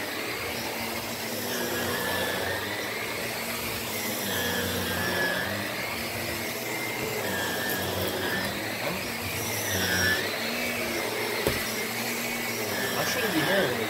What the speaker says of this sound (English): So let's start the vacuum.